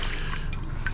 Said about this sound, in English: So I'll give this a good rinse, good swirl around